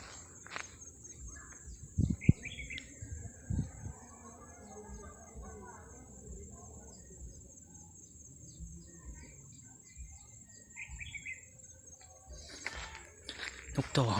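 Two wild red-whiskered bulbuls calling and singing in Thai countryside, short bright phrases repeating at moderate distance among steady insect buzz and cricket drone, with soft rustles and low murmured voices in the background.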